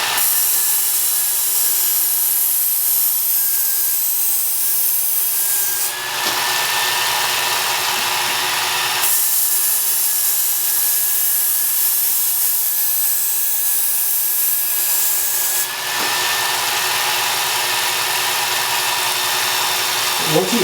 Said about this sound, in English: we're going to use this belt to quickly take the burr off and then establish a new burr at this grit level